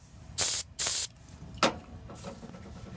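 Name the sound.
spraying O'Reilly brake parts cleaner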